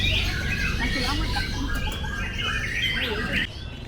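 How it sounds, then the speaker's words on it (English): Competition songbirds at an Indonesian bird-singing contest, many birds chirping, trilling and squawking at once in a dense, overlapping chorus, close and lively, with faint crowd murmur underneath. "That's people's birds getting ready for the competition."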